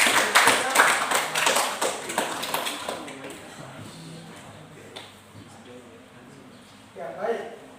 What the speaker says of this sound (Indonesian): Beri tepuk tangan buat teman kita.